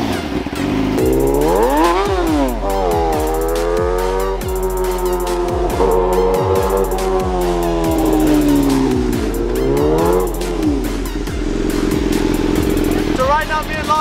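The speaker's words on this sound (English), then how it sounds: "me and Lana are gonna go for a quick spin" A superbike engine revs loudly and close by, its pitch climbing and falling through repeated throttle blips over a constant low drone, with voices talking over it.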